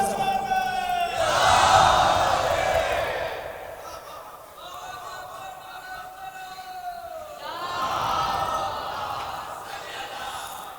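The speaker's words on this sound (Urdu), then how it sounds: "آئیے ان کے نعرے کا جواب بلند ترین دیجئے" At a religious mourning gathering in Pokhrayan, a large crowd answers a preacher with loud shouted slogans in two long swelling waves of massed voices that rise, fade and rise again.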